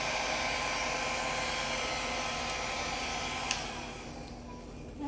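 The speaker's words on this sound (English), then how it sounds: "I hope I didn't run my blow dryer through the paint." A handheld blow dryer runs close by, a loud steady whooshing hum with a fan whine that continues throughout, easing slightly near the end, with no talking.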